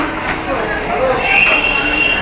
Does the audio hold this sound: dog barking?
no